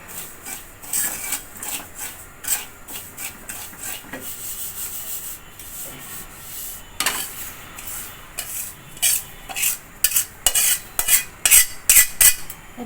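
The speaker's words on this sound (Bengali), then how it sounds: "সুজিরও একটু কালার চেঞ্জ হয়ে আসছে, এখন আমার সুজি ভাজা হয়ে গেছে।" A spoon scraping and stirring dry semolina as it roasts without oil in a pan, with repeated rasping strokes in an uneven rhythm that grow louder and quicker toward the end, close and free of talk.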